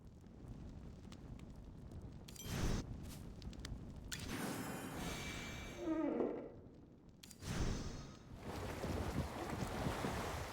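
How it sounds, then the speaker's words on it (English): Gusting wind and washing waves rise and fall in soft surges, with faint creaks and splashes mixed in, fairly quiet and with no one talking. "The sea breeze is blowing from the east."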